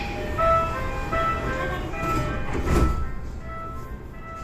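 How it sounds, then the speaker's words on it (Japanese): Door-closing sound aboard a JR East E233-series Keihin-Tohoku Line local train, a brief thud near 2.8 seconds over steady cabin rumble and chime-like tones inside the car. "京浜東北線でドアが閉まります。"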